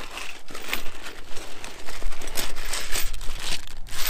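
A plastic bag crinkles and rustles continuously at close range as SAE and metric sockets inside it are handled, with no talk.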